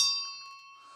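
A hand bell rung during a church service, heard as one bright metallic strike ringing with a steady tone that slowly fades, fairly quiet and alone.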